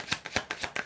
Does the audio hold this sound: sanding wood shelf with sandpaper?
no